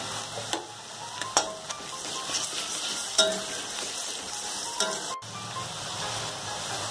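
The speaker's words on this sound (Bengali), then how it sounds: "এর মধ্যে আমি এখন রসুন বাটা দিলাম" Garlic paste added to onions frying in oil for egg curry, giving a steady hissing sizzle with occasional sharp clicks and scrapes of stirring, close and even throughout.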